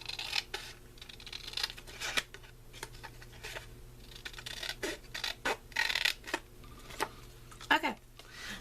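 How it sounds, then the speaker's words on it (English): Scissors snip through a paper card box to cut off its bottom flap, a series of close, crisp irregular cuts and scrapes with quiet handling in between. "I'm going to cut off this bottom flap."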